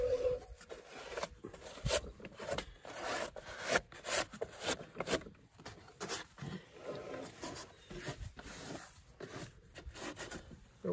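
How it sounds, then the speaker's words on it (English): Gloved hand scraping dead grass out from under the deck of a Honda HRN216 lawnmower, giving close, quiet, repeated scratchy rubbing strokes in an uneven rhythm with no talking. "To get some of this dead grass out of here, I just kind of scrape it with my gloved hand."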